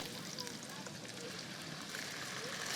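Ginger garlic paste frying in a pan as part of a vegetarian dish, a dense, even sizzle that stays loud and close the whole time, with no voices.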